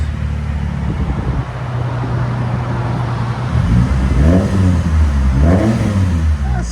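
Chrysler PT Cruiser fitted with dual exhaust, idling with a steady low burble before being blipped into several sharp revs that rise and fall in pitch, loud and close.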